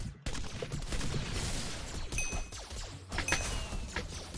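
Rapid bursts of machine-gun fire in a Minecraft Hypixel war match, dense crackling shots running nearly continuously with a brief gap, then sharper metallic pings near the end.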